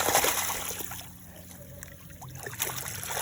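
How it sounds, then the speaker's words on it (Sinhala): Backwash water from a swimming pool filter gushes out into a roadside drain, a close trickling and splashing flow that swells at the start, eases to a quieter rush in the middle, then picks up again. "ඔන්න ඔය විදිහට බෑක් වොෂ් වෙනවා."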